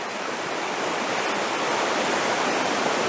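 Piney River in Shenandoah National Park rushing along its bed, a steady broadband wash of flowing water, close and continuous with no voices.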